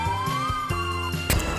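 Fire brigade van siren at a KidZania children's firefighting activity, a short wailing tone rising and falling over a brief clatter and a sharp burst near the end.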